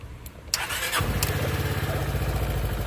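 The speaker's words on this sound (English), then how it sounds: "Let's start it up." A 2006 Yamaha Morphous scooter engine cranks briefly, catches, then settles into a steady, close buzzing run that carries on to the end.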